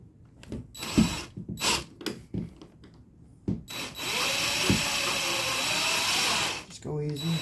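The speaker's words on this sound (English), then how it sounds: "So, get my drill bit out." After a few scattered clunks and brief talk, a power drill whirs steadily into a wall for several seconds during a door stop install, close and loud, then winds down.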